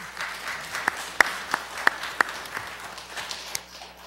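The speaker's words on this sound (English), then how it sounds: "a round of applause to the representative for bringing this money to us" Applause at a Peoria city council meeting, a few sharp individual claps standing out over softer scattered clapping in a quiet chamber, brief and moderately near.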